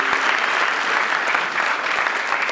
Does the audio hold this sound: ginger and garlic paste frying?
no